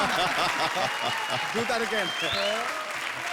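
Studio audience applause on a Comedy Circus stage show, a dense wash of clapping that runs steadily throughout with voices and musical tones over it.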